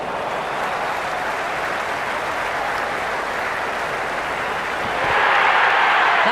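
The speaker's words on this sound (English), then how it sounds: "There's a buzz, a real buzz coming from the stands." A stadium crowd at a Sydney Sixers vs Melbourne Stars cricket match keeps up a dense, steady roar of cheering and applause that swells louder near the end.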